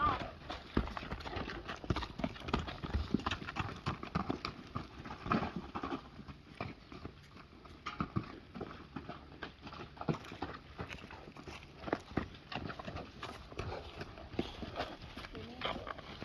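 Hooves of a small, unbroken horse clip-clop in an irregular patter, fairly faint, while people talk nearby.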